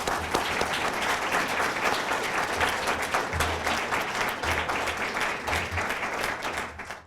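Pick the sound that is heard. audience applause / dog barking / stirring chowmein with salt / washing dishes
audience applause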